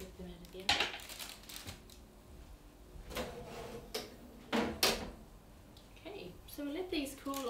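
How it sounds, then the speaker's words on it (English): Metallic clanks and a thud as a baking tray of low-fat apple scrolls slides into an oven and the door shuts, heard beneath a person talking. "we're going to pop them back in the oven for 15 minutes till they're golden brown"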